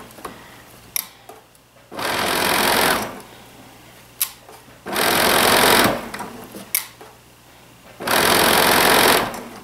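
A sewing machine stitches knit tee fabric in three loud sustained bursts of rapid whirring, each lasting about a second, separated by quiet pauses with small clicks and handling noises.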